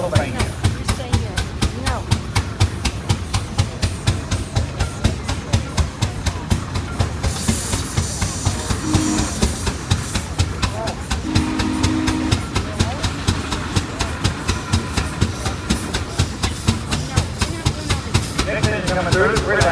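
A 1907 steam traction engine built in Waynesboro, Pennsylvania, chuffs steadily with a rapid, even exhaust beat and hissing steam at a show, while someone talks over a loudspeaker throughout.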